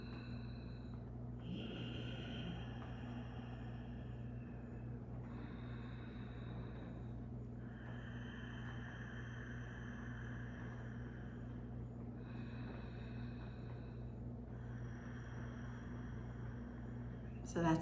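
Ujjayi yoga breathing drawn slowly through a narrowed back of the throat, in a hushed, ocean-like rasp. Several long inhales and exhales follow one another in an even rhythm, close and fairly quiet over a low background hum.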